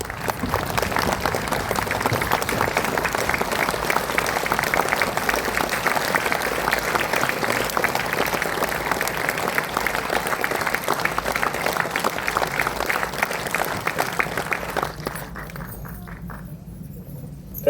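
Sustained applause from a crowd at the release of the Fish, Curry & Rice book by Justice Ferdin Rebello, loud and steady for about fifteen seconds before dropping away to a quiet room.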